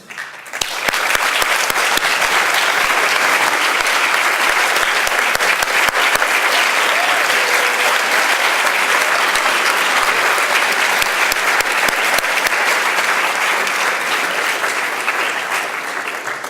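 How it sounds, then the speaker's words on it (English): A commencement audience at a global health graduation ceremony applauds the faculty: steady, dense clapping that fills the hall for the whole stretch, loud and sustained before tapering slightly at the end. "I even saw some students clapping."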